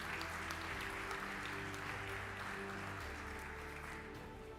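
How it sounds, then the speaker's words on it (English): Audience at a PhD graduation ceremony gives a steady wash of applause, dense and even without distinct claps, heard from some distance in a large hall with a low hum beneath. "Please give them a round of applause."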